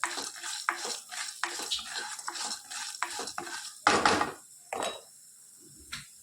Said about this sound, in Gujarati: મેથી આપણી તતરી જાય, સાથે સાથે અડદની ચણાની દાળ નાખીએ.